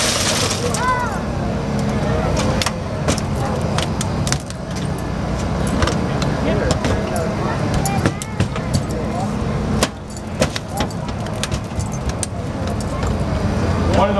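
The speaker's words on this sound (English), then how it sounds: "The gentleman on the cutter is getting ready to take the roof off the car." A hydraulic rescue cutter works through a car roof during a vehicle extrication demonstration, with metallic cracks, creaks and jangling over a constant engine rumble and voices in the background.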